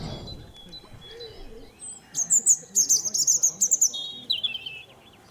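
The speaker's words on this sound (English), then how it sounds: "Now there's a robin high up in the tree with a bright red breast singing away" A robin sings high in a tree, a burst of thin, bright warbling phrases arriving after a brief quiet start, clear and moderately close over faint outdoor background.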